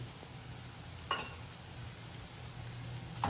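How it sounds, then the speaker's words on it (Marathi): Onion frying in a pan, a soft, faint steady sizzle with a low background hum and two brief clinks of a utensil. "तुम्ही बघू शकता आपला कांदा परतला आहे"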